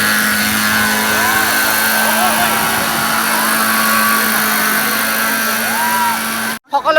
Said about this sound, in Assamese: এইবিলাক একজেক্টলি ছেইম ফাংচনত কাম কৰা হেলিকপ্টাৰ